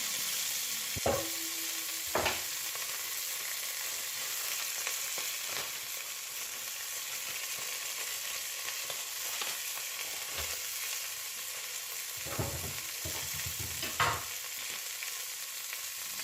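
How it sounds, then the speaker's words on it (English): Mirepoix cooking over medium heat in a pan for lobster thermidor: a steady hiss of sizzling with a few scattered scrapes and knocks as the vegetables are stirred. "add the mirepoix. Continue cooking for a couple more minutes on a medium heat"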